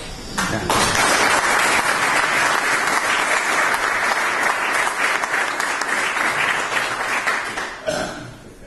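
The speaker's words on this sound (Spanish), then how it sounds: "Además que se merece un aplauso." Sustained audience applause fills a lecture hall after a talk on integrated production in olive growing; dense, loud clapping holds steady for several seconds before tapering off at the end.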